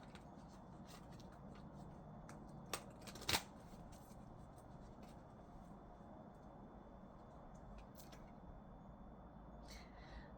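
A deck of tarot cards is shuffled quietly and close up, soft riffling and sliding with a couple of sharper snaps partway through, over a faint steady room hiss.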